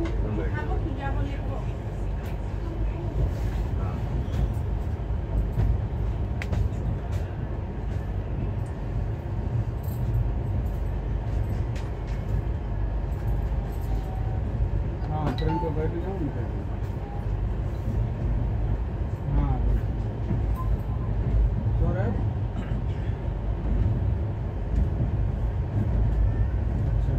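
Steady rumble and rattle inside a moving Indian Railways express train between Gorakhpur and Kanpur. A continuous low drone runs throughout with faint clanks and distant voices underneath.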